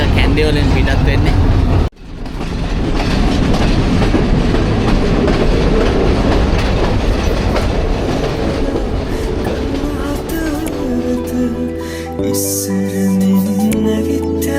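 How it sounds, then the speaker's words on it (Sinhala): A scenic Sri Lankan train pulls out of Kandy station, its wheels rolling with clickety-clack over a loud steady rumble, with music coming in near the end. "ඔන්න දැන් තමයි ට්‍රේන් එක කැන්ඩි වලින් පිටත් වෙන්නේ."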